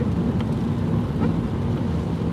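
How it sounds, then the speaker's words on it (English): Freezing rain patters steadily against a car windshield during a winter storm, a dense continuous hiss and rumble heard from inside the vehicle, fairly loud and with no talking. "Definitely hearing more of a rain or freezing rain mixture on the windshield right now."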